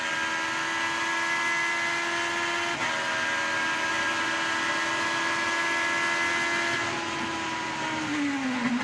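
An IndyCar engine screams at a steady high pitch down the straight at the Long Beach street circuit, then the note drops as the car lifts off and coasts into the braking zone.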